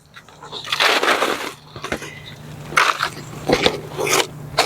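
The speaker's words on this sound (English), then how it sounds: "And then I'm going to put soil in to fill it up" Potting soil scooped and dropped into a bulb crate for planting lilies, producing close crunchy, gritty scrapes and rustling pours in uneven bursts.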